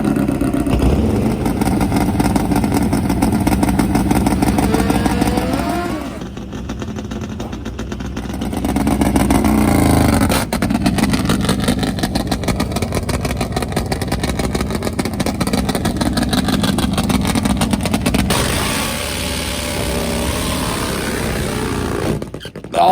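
A nitro-burning Harley drag bike of about 1,000 horsepower races a four-cylinder GS nitrous drag bike, with loud, continuous engine roar and revving throughout and brief dips and surges in the noise.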